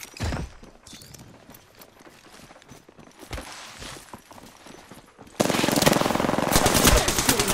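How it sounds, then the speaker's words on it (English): Apex Legends gunfire crackles through rapid automatic bursts with footsteps moving underneath, then swells into loud, sustained close-range shooting for the last couple of seconds. "They're shooting at me."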